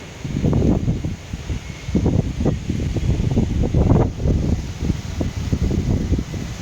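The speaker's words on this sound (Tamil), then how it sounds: "எப்படி காத்தடிக்கிறது தெரியுமா? அந்த புழுதியெல்லாம் அப்படி பறந்து வருது." Strong gusts of wind buffet the microphone on a third-floor vantage point in Coimbatore as dust blows past, the blasts rising and falling in irregular surges with no talking.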